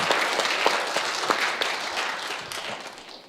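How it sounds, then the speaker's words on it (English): Audience applause for the musicians at a Unity Spiritual Center service in Spokane, a dense, steady wash of many hands clapping that carries on for the whole stretch and fades slightly toward the end. "So let's give them one more round of applause."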